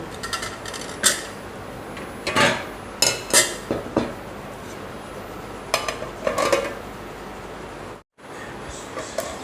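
A lid is set over sabudana (tapioca pearl) paratha dough to rest it. Close, sharp clinks and clattering metal knocks come in scattered bursts over a faint steady background, with no talking.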